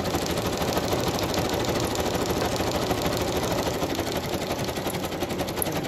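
A sewing machine back stitches through a paper envelope, giving a rapid, even mechanical chatter that runs continuously at moderate volume, with no voices present.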